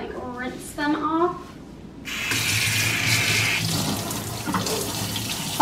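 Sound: tap water rinsing makeup brushes in sink

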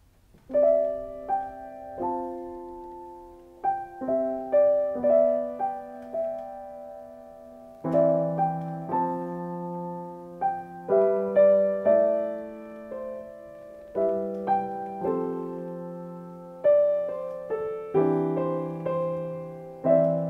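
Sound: piano playing hymn Come Thou Fount of Every Blessing

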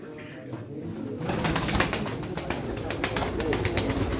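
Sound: pigeons cooing at a pigeon auction

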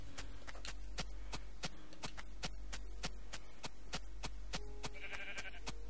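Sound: sheep bleating in Minecraft video game

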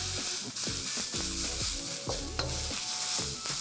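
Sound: stir frying cabbage and carrot in a pan

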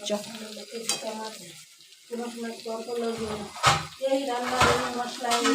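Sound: sautéing fish curry spice paste

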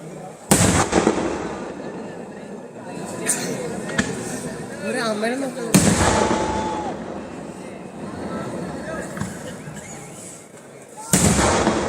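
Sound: temple fireworks bursting

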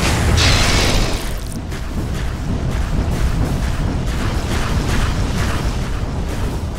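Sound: tower being destroyed in the video game Dota 2

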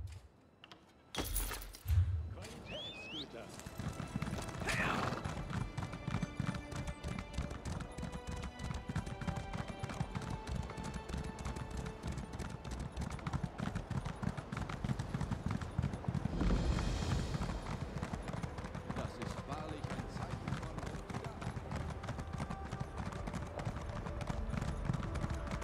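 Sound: horse hooves clip-clopping in The Elder Scrolls Online video game

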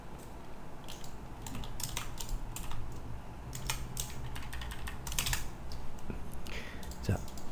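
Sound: typing on a computer keyboard

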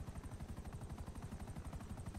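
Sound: combat helicopter arriving to land, from video game

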